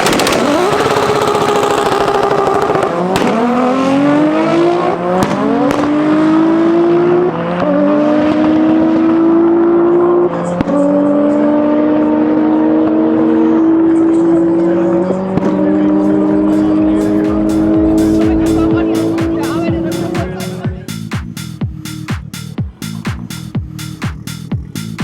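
A 1025 hp BMW G82 M4 roars through repeated hard accelerations and gear changes at a drag-racing event, loud and close, with the engine note rising then dropping off into rapid popping bursts.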